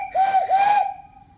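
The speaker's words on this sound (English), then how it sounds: "Really nice whistle" An antique steam engine and boiler on an off-grid overhead line-shaft setup sounds its whistle in one loud, steady, shrill blast of nearly a second with breathy steam hiss, then a fainter lingering tone.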